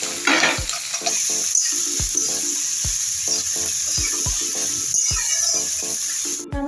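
Five hundred grams of chopped onions fry in a pan for a village-style mutton curry: a loud, continuous sizzle with regular dull knocks and scrapes from stirring, and no voices.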